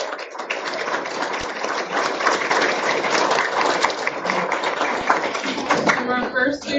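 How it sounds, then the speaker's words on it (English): An audience at a school board meeting applauds third-grade students, with dense, steady clapping that stays loud and sustained throughout, while speech is faintly audible within it. "One last applause for our third graders"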